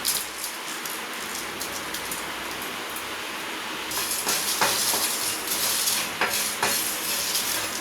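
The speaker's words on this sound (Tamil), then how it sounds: "அதில் அந்த மல்லி, மிளகு, ஜீரகம் இதெல்லாம் வறுத்தெடுத்துக்க போகிறோம்" Coriander, black pepper and cumin dry roasting in a pan on the stove give a steady, close hiss of sizzling crackle that grows busier midway, with sharp pops of seeds scattered through.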